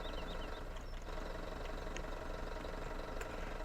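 Tractor engine in Farming Simulator 17 runs steadily at a low idle, a continuous rumbling drone with no talk over it.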